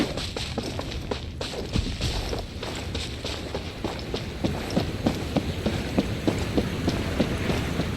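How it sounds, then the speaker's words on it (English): Steady rain pours down in Genshin Impact, a continuous hiss of downpour with soft rhythmic footsteps tapping through it, no talking heard. "Taking a stroll in the middle of a downpour certainly rouses the spirit."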